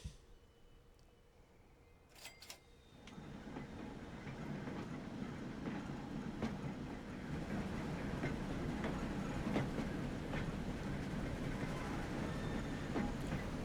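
Trains running along a rail line in the Transport Fever 2 video game, a steady rumbling roll with faint clickety-clack building after a quiet start, continuous and moderately distant, with no talking.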